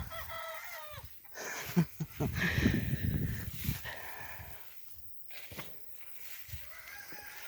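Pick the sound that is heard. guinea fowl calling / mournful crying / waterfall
guinea fowl calling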